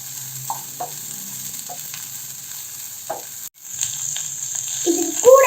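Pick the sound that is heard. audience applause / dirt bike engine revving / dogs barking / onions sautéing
onions sautéing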